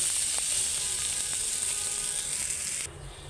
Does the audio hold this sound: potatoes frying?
yes